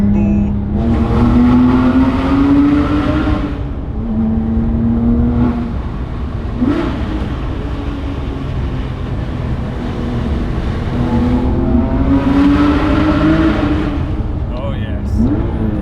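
A Porsche 997.2 GT3 RS with a 450-horsepower engine accelerates hard through repeated gears, its rising engine note climbing, dropping at each shift and climbing again, loud and close from inside the car.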